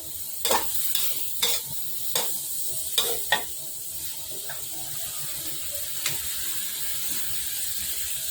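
Shrimp basil stir-fry with oyster sauce being tossed in a pan: a utensil scrapes and clanks against the metal at irregular intervals over a soft, steady sizzle, with no voices.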